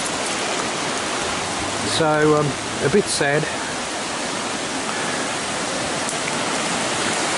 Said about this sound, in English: Just hope you can hear over the noise of the river.